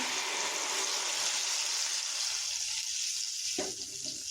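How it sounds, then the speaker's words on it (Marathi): Hot oil with cumin seeds sizzles in a steady bright hiss for several seconds, then a short burst marks gravy being poured in for a masala bhindi, after which the sizzle settles lower. "आता आपण ह्याच्यात बनवलेली ग्रेव्ही सोडूया"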